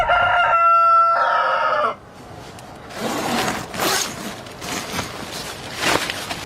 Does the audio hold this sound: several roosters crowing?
yes